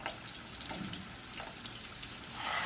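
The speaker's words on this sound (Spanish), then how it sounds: "en un sartén con aceite bien caliente, vamos a agregar las alitas una por una" Chicken wings sizzle in very hot oil in a pan, a steady crackling fry with faint pops throughout and no voices.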